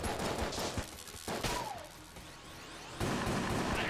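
Bow shots with homing arrows fire in Enter the Gungeon amid a dungeon fight against a summoner: a few sharp bursts and crackling hits, fairly quiet, with a swooping whistle in between.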